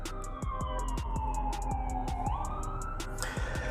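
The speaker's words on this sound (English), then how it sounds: "Hold on, we got an ambulance." A loud wailing ambulance siren sweeps downward and then jumps back up, sounding close by, with a steady rhythmic ticking running underneath.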